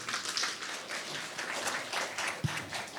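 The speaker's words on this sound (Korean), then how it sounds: "박수 부탁드리겠습니다" Audience applause at a 2025 supercomputing forum in a Daejeon hotel hall, a steady wash of clapping from a seated crowd, moderately faint and distant, lasting the whole moment without speech.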